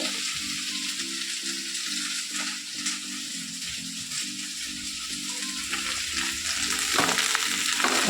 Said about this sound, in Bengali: ভেন্ডি ভাজাটা করে নামিয়ে তারপরে আলু ভাজাটা করবো